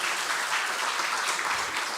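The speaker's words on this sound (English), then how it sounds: "big applause to everyone and to IR department" Loud, dense applause from a conference audience at the closing of an international relations event, a steady roar of many hands clapping without pause.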